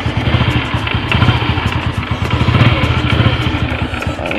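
Honda XRM motorcycle engine with a cracked piston running steadily up close, a loud, rough, rapid pulsing with a rattly clatter throughout.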